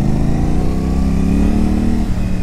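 A CFMOTO 450SRS motorcycle engine runs steadily and loudly while riding, a continuous mid-pitched drone with slight pitch shifts and no talk over it.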